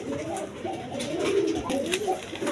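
Several pigeons coo in low, rolling phrases that overlap, close by among caged birds kept for sale.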